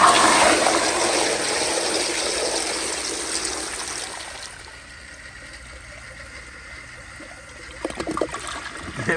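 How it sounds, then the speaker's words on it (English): A 1998 Eljer Dover urinal flushing with its tank completely full, a loud rushing gush of water that gradually thins into softer trickling and gurgling as the flush drains away. "let's give this thing a flush on full pressure with the tank completely filled with water."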